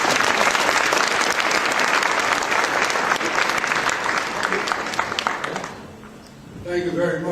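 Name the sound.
applause for the mayor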